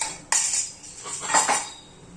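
Ground masala frying in moderately hot oil in a pan, stirred with a metal spoon: one sharp clink against the pan, then a few soft scraping strokes, brief and close, with no talking.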